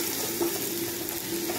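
Whole spices (cinnamon, cloves, black cardamom and bay leaf) sizzle steadily in hot oil for matar chicken pulao, giving a close, continuous crackle with no talk.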